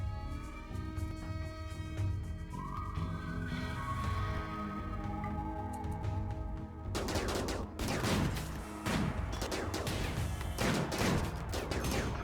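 A Rimworld firefight starts with tense game music, then sharp, loud bursts of gunfire and a grenade blast crack out in quick succession over it.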